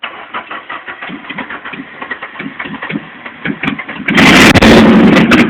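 A car engine runs while the driver holds the throttle and works the clutch, uneven mid-range engine pulses rising into a louder, harsher surge near the end, with no talking.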